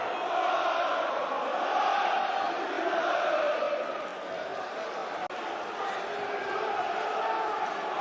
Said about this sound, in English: Crowd noise, really